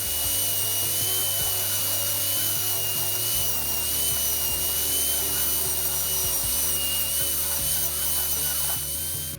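A hand-guided router cuts shallow insets into wood for the axle brackets of a handmade wooden chopper bike, giving a loud, continuous whine with a steady tonal hum and shifting grinding texture throughout, with no speech.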